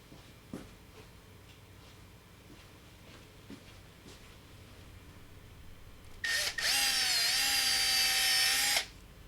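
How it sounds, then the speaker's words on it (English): Power drill boring a hole into a marked spot on a custom GTR headlight housing. After several faint taps and handling clicks, a loud, high-pitched whine starts abruptly and runs steadily for about two and a half seconds before cutting off. "now I'm going to drill a hole"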